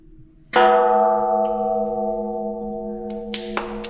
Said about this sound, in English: She's gonna ring this bell as conquest.